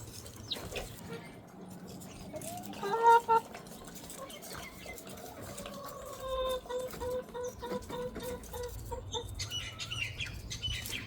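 Hens cluck and murmur close by, soft and intermittent, with a brief louder squawk and rustling pecks as they eat mealworms; a person talks faintly in places.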